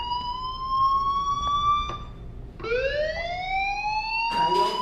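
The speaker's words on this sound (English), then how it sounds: "Hey, do you hear that fire alarm?" A fire alarm rings in the video game Life is Strange, a steady wailing electronic tone that rises and holds, then restarts with a sharp swoop and a brief harsh burst, loud and continuous with no talking.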